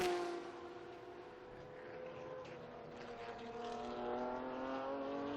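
A classic race car leaves the pits at the Estoril Classics 2020 meeting, its engine a steady harmonic drone that rises slowly in pitch as it accelerates, carrying on without a break and heard alone.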